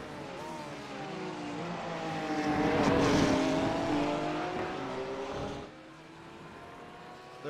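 GT3 race cars at Misano World Circuit Marco Simoncelli in a sim racing game roar past, their engine pitch swelling and then falling away as one car passes close, with other engines droning steadily behind.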